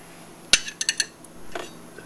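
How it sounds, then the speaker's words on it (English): A knife spreads cold butter across a toasted muffin, giving a few short scraping clinks and taps close by, followed by a softer scrape. "Just spread a little butter on."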